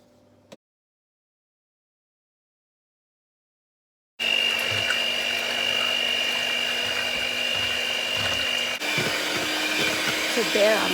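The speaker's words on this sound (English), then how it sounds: "So there I'm just churning this milk into butter" After a moment of silence, an electric appliance churns fresh double cream and milk into homemade butter, a loud steady motorized whir with sloshing that shifts pitch slightly partway through.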